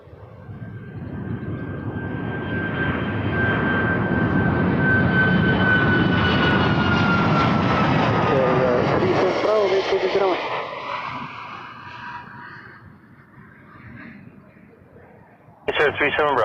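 An airliner rolls along the taxiway at Toronto Pearson Airport, its engines producing a loud, steady roar that swells and then gradually recedes, with a faint whining tone running through it; tower radio chatter is heard near the end.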